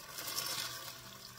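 Black pepper chicken sauce simmers gently in a pan, a soft, steady bubbling hiss that stays faint and even throughout.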